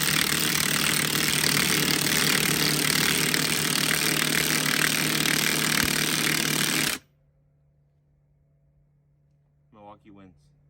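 Hercules Ultra Torque Gen 2 and Milwaukee half-inch impact wrenches run flat out together in a loud, continuous hammering whir for about seven seconds, then cut off abruptly. A brief voice follows near the end.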